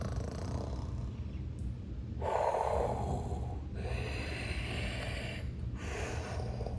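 A voice imitates a wheezing snore with long, breathy inhales and exhales that alternate in slow cycles. The rasping tones are close and fairly loud, with no words spoken.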